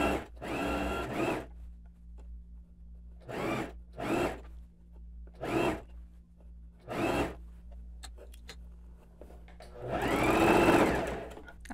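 A domestic sewing machine stitches binding along the neckline of a blouse in several short, loud whirring bursts separated by pauses, ending in a longer run; no one speaks.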